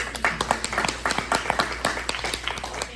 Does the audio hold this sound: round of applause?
yes